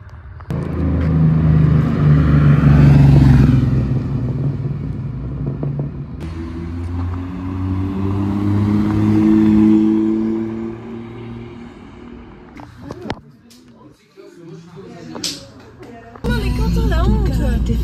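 A BMW M3 CS with a modified exhaust rumbles and revs nearby, its engine note rising and falling through sweeping tones, with voices and street background noise around it.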